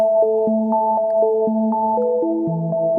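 An early-80s-style synthesizer patch drenched in reverb with two chorus echoes, a sustained chord with notes shifting every half second or so, rich and shimmering, playing steadily on its own without any voices.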